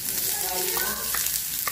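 Onion frying and being stirred in a pan for a Filipino squid, tomato and pechay dish, giving a steady close sizzle with a few brief scraping stirs near the end.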